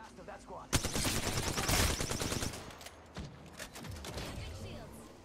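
Rapid gunshots from Apex Legends combat ring out loud and close in bursts, with a sharp volley early on, then scattered shots over a steady background rumble.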